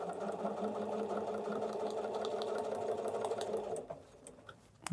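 A sewing machine runs steadily, sewing foundation paper piecing with a tight stitch in one continuous whir that stops just before the end.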